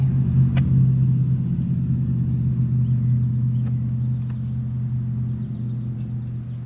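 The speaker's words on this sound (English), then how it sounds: "I don't get many cars that drive down the road, but when they go, they fucking fly" A car passes on a quiet road with a steady, loud low rumble of engine and tyres that holds near throughout, then eases off slightly toward the end. No voices are heard.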